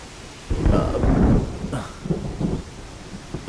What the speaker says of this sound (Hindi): अरे, बारिश होने वाली है।